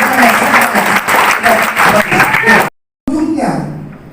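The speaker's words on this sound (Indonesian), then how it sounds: "Tepuk tangan dulu dong." An audience at a youth outreach event breaks into loud clapping for a few seconds. The applause stops abruptly and then fades back in more softly.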